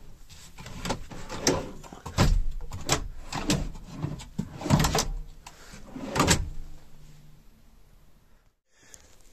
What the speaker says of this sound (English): a quick demo of the first two drawers